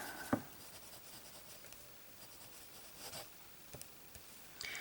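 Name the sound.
pen writing on an ink score card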